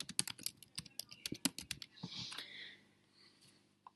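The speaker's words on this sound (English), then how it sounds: "So we click on here and we type in Caroline Black" Rapid keystrokes on a computer keyboard as a name is typed, a quick irregular burst of close, crisp clicks that slows and gives way to a softer shuffling rustle near the end.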